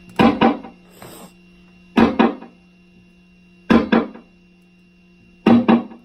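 Electric guitar plays short pairs of notes in four evenly spaced phrases, each followed by a quick, quiet echo from a Korg delay set to a short eighth note, with silence between.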